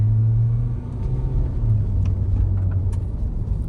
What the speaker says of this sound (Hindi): वापस से डी में लगा देता हूँ, थोड़ी सी खींचता हूँ गाड़ी